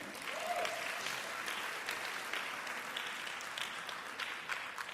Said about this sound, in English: Let's get some clapping going